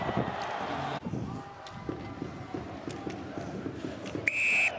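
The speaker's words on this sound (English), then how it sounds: "Whistle goes, we're done." Referee's whistle blows sharply near the end at an ice hockey game, Austria versus Hungary at the 2023 IIHF World Championship, rising over rink noise, skate scrapes and players' shouts.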